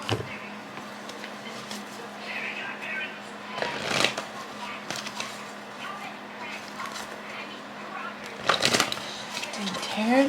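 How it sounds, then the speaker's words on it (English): A deck of tarot cards being shuffled, with crisp riffling bursts that come and go against a steady low background hum. "I'm shuffling my deck"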